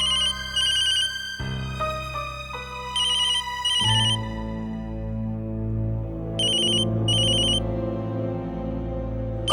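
A phone ringtone plays a bright, repeating electronic melody with chiming tones coming back in regular cycles, clear and alone with no talking.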